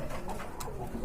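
Large-sized pigeons with brown eyes cooing close by, a few soft rolling coos over a steady low background hum, with no voices.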